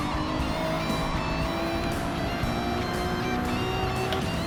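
A Gr.3 race car in Gran Turismo 7 runs flat out down the Nürburgring straight at around 300 km/h, its engine giving a loud, steady, unbroken roar throughout.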